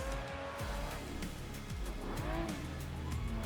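A drifting car in the racing game Assetto Corsa, its engine revving up and down while the tires squeal and skid through linked slides, sustained and close, with no voices.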